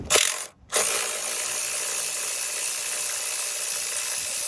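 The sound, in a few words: deep socket ratchet on Jeep Wrangler step bolts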